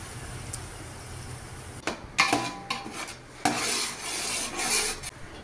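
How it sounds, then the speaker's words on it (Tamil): Ground onion paste sizzling in a large pot while being stirred and scraped for a soya chunk and egg pulao, with a steady fry hiss and intermittent scraping strokes, close and moderately loud. "இப்போ அந்த மிக்சியில் அரைச்சி வச்ச வெங்காயத்தை அதில் ஊற்றிக்கலாங்க. அப்படியே ஊற்றி நல்லா வதக்கிக்கலாங்க."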